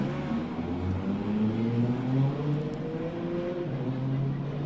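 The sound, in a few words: Nissan R35 GTR 3.8-litre six-cylinder race car accelerating from launch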